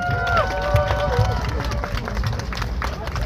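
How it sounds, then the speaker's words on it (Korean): A crowd applauds at an outdoor Korean by-election campaign rally, with dense, loud clapping mixed with cheers and a voice over the loudspeaker. "여러분 다시 한번 큰 박수로 맞아주십시오."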